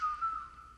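A short whistled phrase from a TV theme, a clear, steady tone heard briefly and alone.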